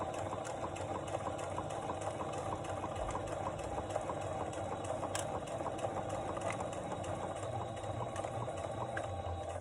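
A sewing machine stitches through bulky tote fabric with a close, continuous, even whirring of the needle and motor that never pauses.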